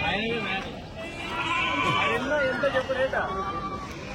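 Goats bleating among the crowd at a sheep and goat market, several quavering cries rising over continuous close conversation and background bustle.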